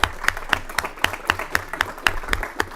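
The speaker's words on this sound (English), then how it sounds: "Let's give him a round of applause right here." Applause from an audience at a budget subcommittee hearing, a short burst of evenly spaced, fairly loud claps in a brisk rhythm, as if a handful of people are clapping nearby in a room.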